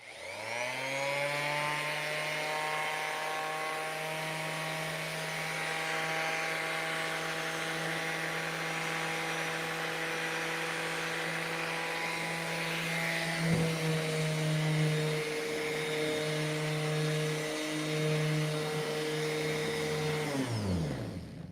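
An old electric pad sander running alone at close range, a steady buzzing motor hum with a strong tone that holds level and dips slightly partway through before winding down at the end.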